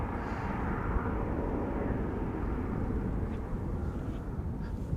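A jet aircraft at Schiphol Airport roars steadily at a distance, a broad continuous rumble holding level throughout with no voices.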